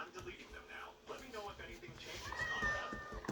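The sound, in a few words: cat meowing in a video game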